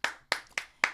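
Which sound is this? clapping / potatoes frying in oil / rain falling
clapping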